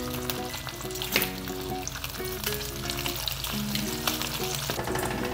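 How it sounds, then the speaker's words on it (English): Bacon strips fry in a stovetop pan, giving a continuous crackling sizzle with a few louder pops, while tonal background music runs underneath. "I'm flipping the bacon"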